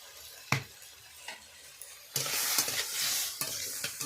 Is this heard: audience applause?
no